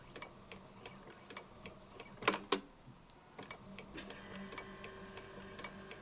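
A Bernina 910 sewing machine at a modified low start speed gives slow, evenly spaced mechanical ticks, two sharper clacks in the middle as it stops with the needle down, and a faint whirring motor hum after.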